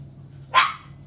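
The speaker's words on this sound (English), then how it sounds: "No. Don't bark." One of two pet dogs lets out a single sharp bark indoors, close and loud against a quiet room.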